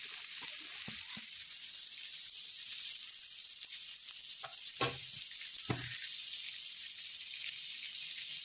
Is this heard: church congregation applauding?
no